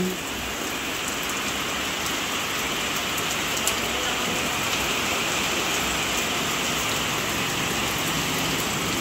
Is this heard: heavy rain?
yes